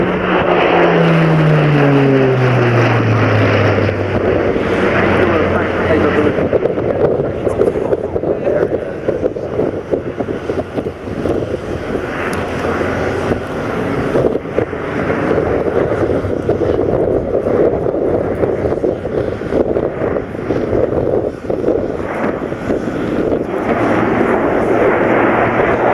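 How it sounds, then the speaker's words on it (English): An Airbus A400M military transport aircraft roars past at the Fairford airshow. A loud, sustained engine drone with a falling pitch sweep opens the pass, then steady buffeting wind noise continues throughout. "we'll see the A400M pull up to around 40 to 50 degrees."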